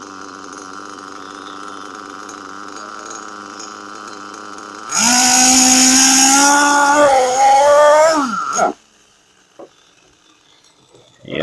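A Kyosho Nitro XXL Scorpion RC car's nitro engine fires up sharply and screams at a high, buzzing pitch that wavers, close and loud, for about four seconds before cutting off abruptly. Before it starts there is a lower, steady mechanical hum.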